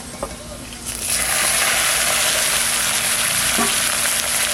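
Rui fish frying in hot oil with dry chillies and fenugreek, a loud, steady sizzle that swells after about a second and keeps crackling with occasional stirring clinks.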